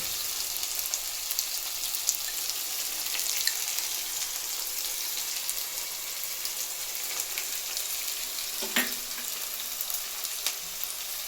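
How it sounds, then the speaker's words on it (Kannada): Something frying in oil in a pan for bisibele bath, a steady close hiss of sizzling with a brief clink partway through, no voices. "ಚೆನ್ನಾಗಿ ಎಣ್ಣೆಯಾಗ ಫ್ರೈ ಆಗಬೇಕು ಫ್ರೆಂಡ್ಸ್. ಇದು ಫ್ರೈ ಆಗೈತೆ ನೋಡ್ರಿ."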